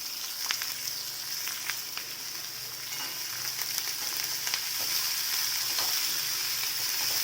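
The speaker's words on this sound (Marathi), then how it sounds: "आणि हे दोन कांदे सगळं आता आपल्याला तेलात छानपैकी भाजून घ्यायचं" Onions and curry leaves fry in hot oil with a steady, fine sizzle and crackle, close and fairly quiet, with occasional small pops and stirring sounds and no voices.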